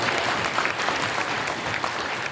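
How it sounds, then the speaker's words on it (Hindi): Audience at a leadership training session claps hands in a steady, sustained round of applause, dense and even throughout without a break. "आपके लिए हाथ ताली हो जाए"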